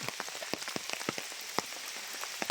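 Light rain patters steadily on a surface at a dam, with scattered close drops ticking irregularly over a soft continuous hiss.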